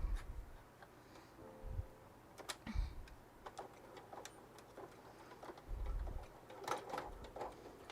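A home sewing machine stitches vinyl in short uneven bursts of needle clatter with ticking clicks between them, close by and fairly quiet.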